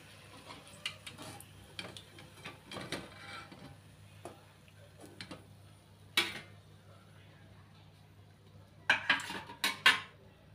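A crispy wheat-flour fried snack is lifted onto a plate with scattered clinks and taps of utensils against metal, sparse at first then a brighter cluster of clatters near the end, over a low steady hum.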